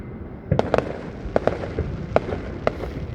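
Fourth of July fireworks burst at a distance, several sharp cracks and booms in an irregular sequence over a steady outdoor background hum.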